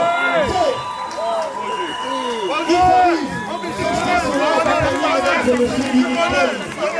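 Guests at a traditional Gabon-Cameroon wedding cheer, whoop and shout loudly for the couple, a lively crowd roar with many overlapping voices.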